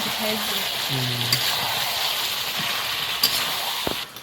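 Potatoes sizzle steadily in hot oil in a pan for a Bengali chicken and vegetable curry, a continuous close frying hiss with a few faint stirring knocks and no talk.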